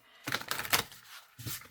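A Cozy Witch Tarot deck is shuffled close up, with two soft bursts of riffling card noise separated by a short pause, quiet and without speech.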